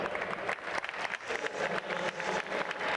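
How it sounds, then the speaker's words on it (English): A crowd in a Minsk velodrome applauds a track cyclist finishing the women's 500m time trial at the world championships, a dense, steady wash of clapping heard from a distance. "An appreciative round of applause from the crowd here in this velodrome in Minsk"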